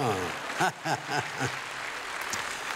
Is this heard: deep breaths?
no